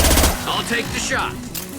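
Gunfire in the Mass Effect 2 video game comes as a quick rattling burst at the start, then gives way to dense game sound effects and voice-like tones.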